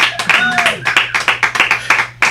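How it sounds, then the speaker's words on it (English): Studio audience clapping in a dense burst of claps, close and lively, with a low steady hum underneath. "I love the cheering section in here today."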